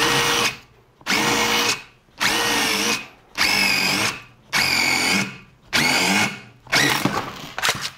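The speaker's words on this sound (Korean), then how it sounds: "철제도 6mm가 그냥 가볍게 타공이 됐습니다" A power drill with an all-in-one bit bores a 6mm hole through steel, running in about six loud whining bursts of roughly a second each, separated by short pauses, close and alone.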